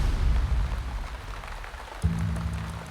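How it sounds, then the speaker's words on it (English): Heavy rain during a 24-hour motorcycle endurance ride on a Triumph Tiger 1200 at speed in wet conditions: a dense, steady rushing roar, with a low steady engine hum joining partway through. "It started raining 1 hour ago. It's a proper wet condition."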